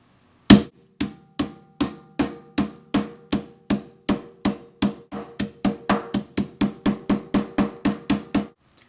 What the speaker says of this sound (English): you can take your kitchen hammer and smash it to make it really small